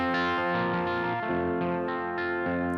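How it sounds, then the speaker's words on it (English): An electric guitar plays sustained chords through a lightly distorted amp effect, notes ringing with a gritty, slightly shimmering edge and changing every half second or so. "Just a touch of distortion."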